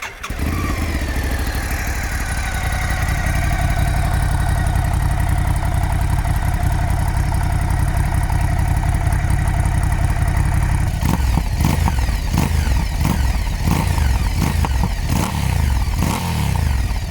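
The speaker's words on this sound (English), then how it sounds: "let's hear the exhaust note for this." A 2020 Ducati Scrambler 1100 Sport Pro engine idles with a deep, steady exhaust burble, then revs sharply several times in quick bursts, loud and close.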